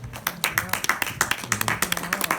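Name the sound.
hands clapping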